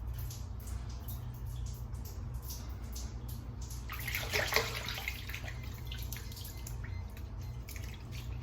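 Hot water running from a tap during a straight razor shave, a steady close hiss of flowing water with a brief louder gush and splashing in the middle, and no voices.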